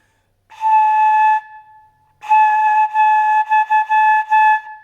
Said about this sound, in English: so when I do that, just with this top part, which is called the head joint, it sounds like this.